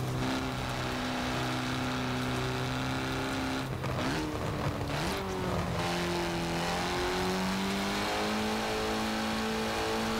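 A four-cylinder race engine in Forza Horizon 4, built to rev to 9500 RPM, climbs and drops through loud sustained revs with shifting pitch throughout, steady and close with no talking.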